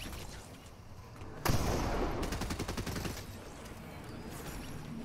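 Heavy gunfire bursts out in a shooter video game, a loud sustained rattle of rapid automatic shots lasting a couple of seconds before easing back into lower battle noise.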